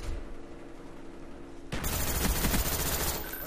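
Rapid bursts of FAMAS rifle fire from Call of Duty: Black Ops break out suddenly after a quieter stretch, loud, dense and continuous with overlapping shots through to the end.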